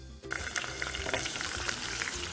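Batter-coated corn kernels fry in hot oil under a covered lid, giving a steady, dense sizzle with scattered crackles and pops, close and even throughout.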